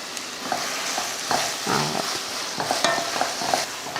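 Tomato masala sautés in a pan with a steady frying sizzle, broken up by repeated scraping stir strokes close by, and no one speaking.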